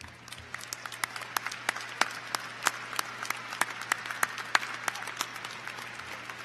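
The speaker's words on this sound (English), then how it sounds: "If they would all please stand and accept our applause for their service this afternoon." Scattered applause from a commencement audience at a university spring undergraduate ceremony, distinct individual claps in a loose steady patter, moderately distant, over a low background hum, with no talking.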